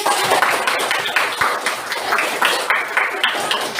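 Students applauding together in a classroom lesson, a dense, continuous patter of many hands clapping at close range with no talk over it.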